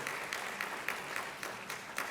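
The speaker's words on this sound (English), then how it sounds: "a big round of applause to the entire team of Startupedia." A crowd claps for student teams at a startup event, a modest, fairly distant patter of applause with a few sharper bursts standing out, no voices over it.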